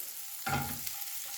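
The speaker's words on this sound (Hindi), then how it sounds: "तो ऑनियन को फ्राई करते हुए 1 मिनट हो गया है।" Onions fry in a pan while being stirred, a faint steady sizzle with a brief scraping stir near the middle, no talking.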